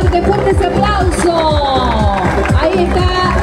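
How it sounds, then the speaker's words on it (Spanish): Parade crowd applauding and cheering at a town anniversary procession in Río Primero, Argentina, a steady dense wash of clapping and hubbub with talk mixed in throughout. "Fuerte, fuerte ese aplauso."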